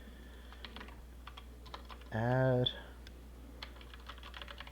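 Someone types a command on a computer keyboard while working in Windows Server on a virtual machine: scattered, fairly quiet key clicks, paused briefly by a short spoken word.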